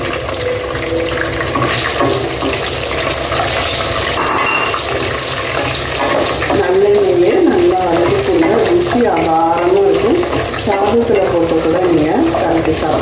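Small gooseberries for an Andhra-style pickle are added to a hot pan with browned ingredients and stirred, a loud continuous sizzle and scraping throughout.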